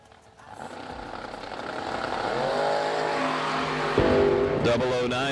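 A Datsun drag racing car in the left lane roars as its engine builds steadily in pitch and loudness, with a sharp jump near the end.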